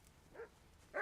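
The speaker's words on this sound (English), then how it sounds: "What are you barking at?" Dog in a video game giving two short barks, a faint one and then a louder one just after, each brief and alone in near silence.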